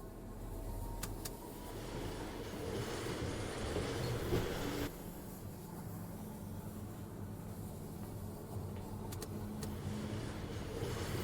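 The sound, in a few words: train wagon rolling out of factory in Firmament video game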